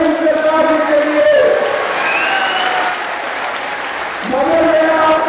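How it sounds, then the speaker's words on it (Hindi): Crowd at a BJP election rally in India claps loudly and steadily, a dense sustained applause with some shouting, while a voice talks over it at the start and end. "देश में ताली बजाइए असीम सरकार के लिए।"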